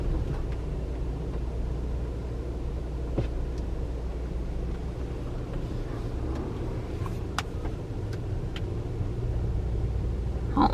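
A Tesla car circles slowly around a parking lot, a steady low road and cabin rumble running evenly throughout with a few faint clicks and no talking.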